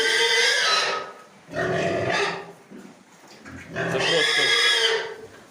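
Landrace pigs on a farm make three loud, close bursts of grunting and squealing, separated by short quieter gaps.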